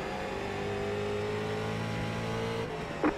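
Street stock race car engine running steadily at Slinger Speedway in the iRacing simulator, a continuous loud drone with stable harmonics, briefly dipping near the end before a short burst.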